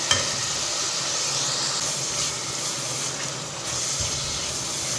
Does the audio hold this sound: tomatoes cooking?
yes